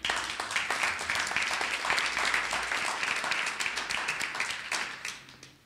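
Audience at a keto conference in Salt Lake City clapping, many hands in a thick sustained round with some sharp individual claps standing out, tapering slightly near the end.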